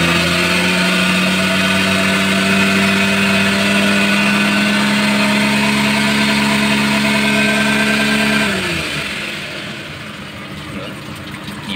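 A Suzuki F6A engine in a multicab runs at steady, raised revs for several seconds, loud and close, then drops sharply back toward a low idle, during cooling system flushing.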